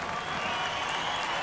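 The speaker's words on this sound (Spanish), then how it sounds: "Se pide un aplauso para los boxeadores" Arena applause rings out for the boxers after an IBO super middleweight title fight, a brief dense wash of clapping from the crowd with faint voices underneath.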